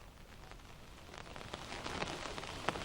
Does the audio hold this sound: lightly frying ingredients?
no